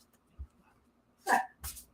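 A dog gives a couple of short, sharp sounds, loud and close, with a soft low thump a moment before them and no talking over them.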